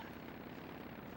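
A steady, droning motorcycle engine rumble in the N64 video game Castlevania: Legacy of Darkness, continuous and fairly loud, with no voices over it.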